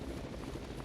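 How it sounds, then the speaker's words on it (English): Helicopter in the video game Raw Danger, a steady low rotor thrum and engine drone, close and continuous throughout the brief moment with no talking. "Also, a helicopter."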